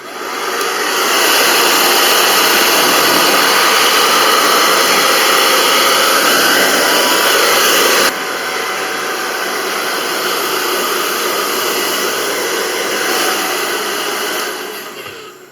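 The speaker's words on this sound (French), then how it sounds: "Vous mettez un coup de séchoir pour sécher le joint" Hair dryer blowing steadily and loudly on a washing machine's rubber door seal after cleaning, a continuous airy roar that drops slightly in level partway through, then fades at the end.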